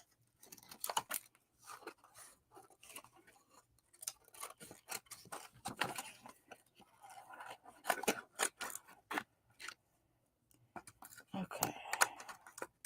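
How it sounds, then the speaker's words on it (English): Scissors snip through paper while cutting out a craft title, giving a run of short, quiet crisp cuts in irregular bursts, with soft talk and handling noise around them. "we're going to cut out the title."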